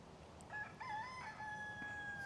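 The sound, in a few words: rooster crowing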